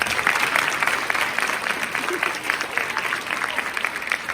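At a high school fall sports awards event, an audience gives sustained applause, a loud, even roar of many hands clapping at once with no break throughout.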